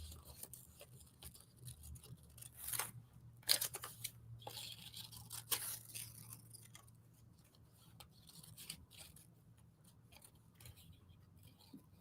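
Scissors snip through paper as carrot pictures are cut out, a few crisp, irregular snips and faint paper rustles, quiet and close, with no talking.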